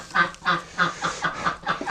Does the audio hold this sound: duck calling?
yes